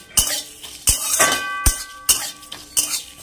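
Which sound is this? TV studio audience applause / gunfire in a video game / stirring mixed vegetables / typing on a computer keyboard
stirring mixed vegetables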